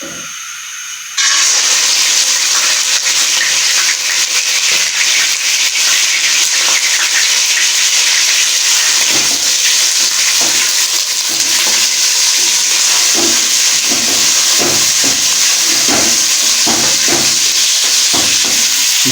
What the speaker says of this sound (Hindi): जी वो ये फ्राई हो रहा है।